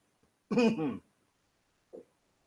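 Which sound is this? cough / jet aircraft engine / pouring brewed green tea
cough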